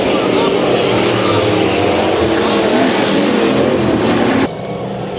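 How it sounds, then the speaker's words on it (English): Hobby stock race cars roar around Santa Maria Speedway during a heat race at the Simpkins Memorial. The engine noise is loud, continuous and dense for several seconds, then drops abruptly near the end. "Heat race number 1 for the hobby stocks out here at the Santa Maria Speedway."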